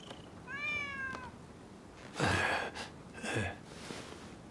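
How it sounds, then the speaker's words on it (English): A stray cat in the video game Rise of the Ronin gives a couple of clear, close meows. Softer breathy sounds follow, with no talking. "Who'd have thought a stray cat would wander in?"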